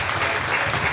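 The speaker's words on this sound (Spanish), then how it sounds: "Un aplauso para ellos" A short burst of dense applause from a church gathering, a steady wash of clapping hands lasting about a second at moderate volume.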